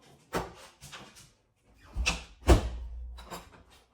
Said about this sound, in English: We closed the storm door for the night.